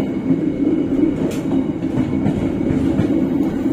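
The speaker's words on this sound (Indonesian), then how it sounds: "ini adalah tempat switch overnya. Jadi kita akan belok ke kiri sesuai jalannya kereta." A train rolls over railway switch points while turning left onto a diverging track, loud and close, with a continuous rumbling wheel roar and a few sharper clicks and metallic squeaks from the rails, no voices.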